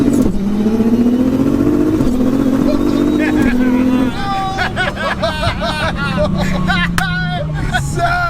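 A VR6-engined R32 pulls hard through first gear, its engine note rising in a loud, steady climb for about four seconds before the shift. A higher, fainter engine rumble carries on afterward beneath chirps and background chatter.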